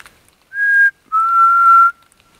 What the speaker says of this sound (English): Did you hear that noise? That was a whistle.